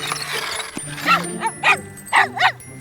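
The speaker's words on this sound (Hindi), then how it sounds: "टॉर्च बदमाश कुत्ता।" A cartoon dog in an animated animals-and-trucks show gives a series of five short, sharp barks, close and loud, following some brief talk.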